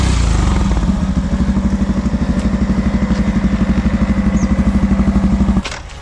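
A Yamaha FZS V3 motorcycle engine pulses loudly and steadily as it accelerates on the road, with rhythmic firing climbing slightly in pitch before cutting off abruptly near the end.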